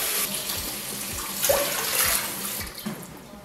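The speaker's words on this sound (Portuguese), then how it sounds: "Vou colocar três medidas dessa daqui de água." Water pours from a tap into a pot of rice in a home kitchen, a steady running splash with faint clinks, close and fairly quiet, no talking.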